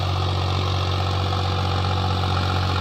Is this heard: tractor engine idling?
yes